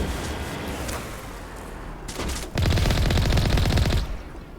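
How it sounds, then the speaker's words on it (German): Sustained automatic gunfire from the video game Mass Effect Legendary Edition, a dense rapid burst of shots that grows louder midway and holds steady before cutting off, with no talk over it. "Moment, Leute schießen auf uns."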